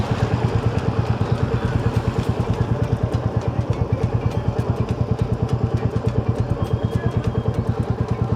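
A motorcycle engine idles steadily after a restart by a highway on a long-distance ride, its close, rapid thumping pulses continuing evenly throughout.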